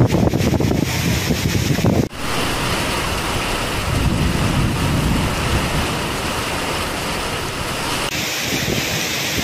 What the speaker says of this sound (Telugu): ఉరుములు మెరుపుల మధ్య భారీ ఈదురుగాలులతో కూడిన వడగండ్ల వాన కురిసింది